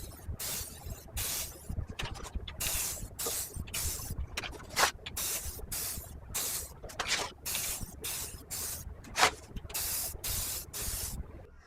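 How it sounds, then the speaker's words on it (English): Repeated short hissing bursts from a spray paint can painting metal, about a dozen sprays in an uneven rhythm with brief pauses, close and soft. "getting in position to spray paint them because that's the easiest way, especially when it comes to metal"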